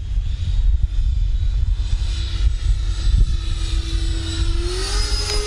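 A Freewing F/A-18C Blue Angels 90mm electric ducted-fan RC jet makes a slow, flat pass with flaps down, giving a steady whining fan tone over outdoor wind rumble that rises in pitch toward the end.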